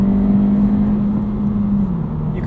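A 2022 Honda Civic Si on all-season tires runs under throttle with a steady, loud engine drone that dips slightly in pitch near the end, alone with no talking.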